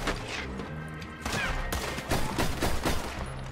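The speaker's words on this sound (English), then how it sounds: "So I'm going to shoot this guy." Rapid volleys of gunshots in Red Dead Redemption 2 Online, loud and close, bursting in quick uneven clusters with sharp cracks and a busy rumbling game mix underneath.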